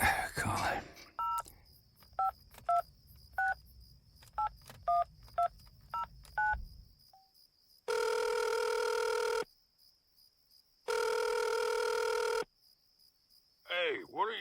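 Touch-tone dialing beeps in a short run, followed by two long electronic telephone rings with a gap between them, heard alone in a quiet room before a voice comes in at the very end.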